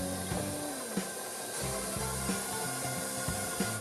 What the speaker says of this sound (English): we're gonna add the heavy cream and let it whisk for another 2 minutes